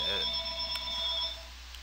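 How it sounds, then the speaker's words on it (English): A phone ringing indoors with steady electronic tones that hold and then fade out near the end, with some faint background sound underneath. "I got a phone call"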